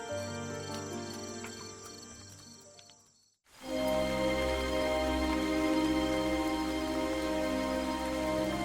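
Cold rain falls steadily in a dense, close hiss that starts abruptly after a brief silence and continues evenly. Earlier, a tonal musical bed fades out.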